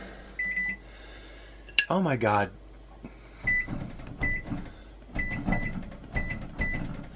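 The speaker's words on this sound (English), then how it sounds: "Whoever's idea it was to have your microwave continuously beep at you." A microwave beeps repeatedly in short high tones at steady intervals, close by, while a person speaks briefly over the beeping.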